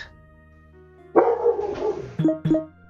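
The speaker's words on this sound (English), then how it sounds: "there's some dogs that are barking" Dogs bark in the background: a brief whine, then a sustained yelp followed by two sharp barks, moderately near and clear with no talk over them.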